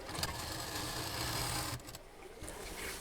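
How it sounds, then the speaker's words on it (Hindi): A sewing machine stitches the corners of a bed cover made from a saree, its motor whirring in a steady, dense drone for nearly two seconds, then stopping, with softer intermittent whirring afterward. "सफाई के साथ अब कॉर्नर की सिलाई कर देंगे"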